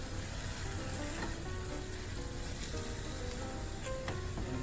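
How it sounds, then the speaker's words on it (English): Riced cauliflower and zoodles sizzle softly in a hot pan while being stirred and combined, a continuous low frying crackle with occasional scraping and clinking of the utensil, no voices. "I'm just going to mix and combine this up."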